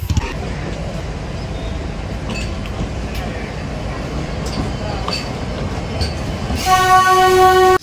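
A train at Coonoor railway station in the Nilgiris rumbles steadily, loud and near, then sounds a long, loud horn blast near the end.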